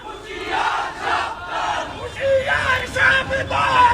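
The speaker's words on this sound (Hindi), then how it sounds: "कट्टरपंथियों की भीड़ ने कैसे सड़कों पर निकलकर हिंदुओं को मारने काटने की धमकियां दी" A street crowd of extremists in Dhaka shouts threats in loud rhythmic chanting bursts, many voices rising and falling together, close and dense.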